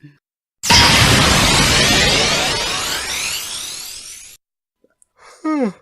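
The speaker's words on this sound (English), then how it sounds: "Sorry, I'm yawning." A person yawns in a single long breathy exhale lasting several seconds, close to the microphone, followed by a short pause and a brief vocal sound.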